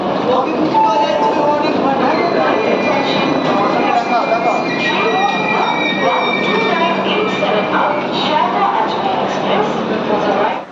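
The 12987 Sealdah-Ajmer Superfast Express rolls through a station with a loud, continuous rumble of wheels on rail, overlaid by thin metallic squeals and whines from the running gear throughout.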